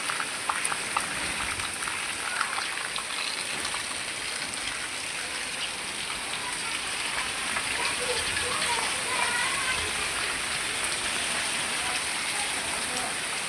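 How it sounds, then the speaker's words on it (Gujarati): Rain falls steadily, a dense, even hiss of drops spattering on surfaces outdoors, continuous and unchanging for the whole stretch. "વરસાદ એટલે વરસાદ આવે છે"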